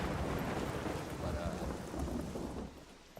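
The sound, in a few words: rain and thunder outside in the video game SCUM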